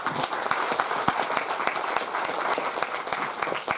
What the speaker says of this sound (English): I would like to really give them a big applause